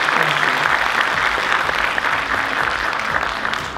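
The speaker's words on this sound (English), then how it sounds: "a warm round of applause for him" A large congress audience gives sustained, dense applause, a loud and even roar of many hands clapping for a few seconds.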